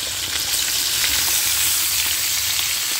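Potato pieces frying in a pan alongside kebabs, a loud, steady, close sizzle with dense crackling that continues unbroken throughout.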